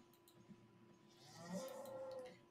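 Cow mooing in Albion Online, a single drawn-out low moo that swells in the second half and carries a faint game soundtrack tone beneath it.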